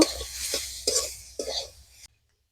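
Cauliflower paratha filling with salt, cumin, coriander and crushed dried chilli is stirred in a pan, three or four close scraping strokes over a faint sizzle, ending abruptly in silence.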